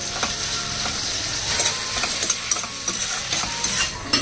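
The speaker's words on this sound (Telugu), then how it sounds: "ఈ ఉల్లిపాయ ముక్కలు బాగా దోరగా వేయాలన్నమాట." Onion pieces sizzle loudly and steadily in hot oil for a Konaseema-style chicken pulao, with repeated scraping and stirring strokes over the constant frying hiss.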